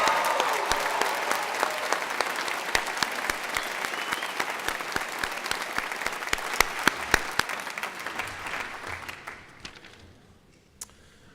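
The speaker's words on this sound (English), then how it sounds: "give an extra round of applause to the mothers in attendance to thank them" Audience at a business school graduation hooding ceremony gives a sustained round of applause, many hands clapping steadily and loudly, thinning out and fading to scattered claps toward the end.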